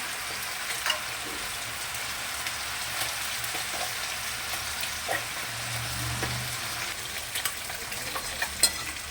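Cabbage with peas frying in a pan, giving a steady close sizzle with scattered stirring scrapes and a few sharper clinks throughout, no voices.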